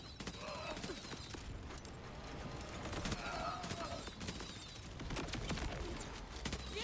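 Rapid bursts of SMG fire in a video game crackle repeatedly in several long volleys, with mechanical clatter between them and a brief spoken exclamation over the gunfire.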